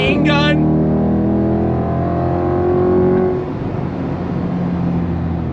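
A 2023 Chevrolet C8 Corvette 70th Anniversary Edition launches hard under launch control, its engine roaring loud and close as the pitch climbs steadily, then a quick gear shift drops the note and the engine keeps pulling.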